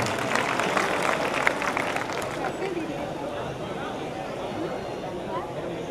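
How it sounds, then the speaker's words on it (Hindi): An audience claps for children after their performance at a school cultural programme in Lucknow; brisk, fairly close applause for a couple of seconds, then it settles into a steady crowd hubbub. "इन बच्चों के लिए एक बार मैं चाहूँगा कि फिर से आप लोग जोरदार तालियां बजाएं"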